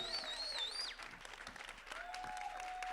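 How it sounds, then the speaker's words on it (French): A crowd applauds the panelists at an after-show discussion, a soft, fairly distant patter of clapping with a few louder claps near the end and a faint tonal sound early on. "Je vais vous prendre une bonne main d'applaudissements pour eux en ce moment."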